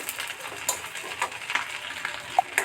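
Dried fish (shutki) frying in hot oil, a continuous close sizzle with scattered small pops and crackles.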